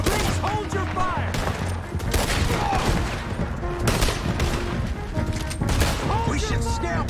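Dense, continuous volleys of gunfire crackle through a shootout in Red Dead Redemption 2, with shots overlapping rapidly and voices shouting over the battle.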